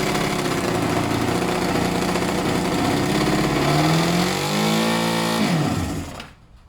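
Kawasaki ZL600 Eliminator barn-find motorcycle engine running at its first start after sitting, a loud continuous idle whose pitch wavers and rises before the engine cuts out.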